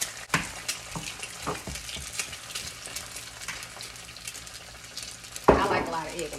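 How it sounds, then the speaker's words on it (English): An egg cracked into a hot wok while shrimp fried rice cooks, a soft sizzle under repeated scraping and stirring strokes, with a louder clatter of the utensil near the end. "I like to put mine to the side and just crack it on in there."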